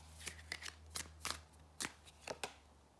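Tarot cards are laid out on a table one after another, quiet papery snaps and slaps in an irregular rhythm, close and soft, with no talking.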